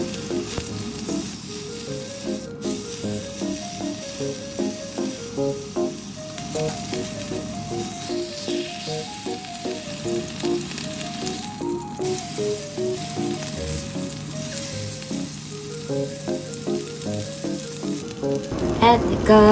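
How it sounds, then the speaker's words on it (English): Pork sizzles steadily and loudly as it is seared in a hot frying pan over medium heat, a constant crackling hiss, while soft background music plays underneath. "Sear all sides of the meat evenly over medium heat."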